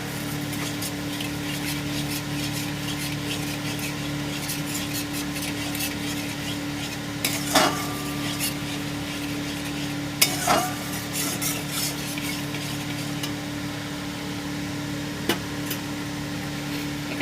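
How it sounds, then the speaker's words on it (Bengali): Yogurt is stirred into fried onions in a pan for a prawn curry, with a soft sizzle and a constant hum underneath. A few sharp scrapes of the spoon against the pan stand out at intervals. "দইটা দিয়ে ভালো করে নাড়িয়ে নেব।"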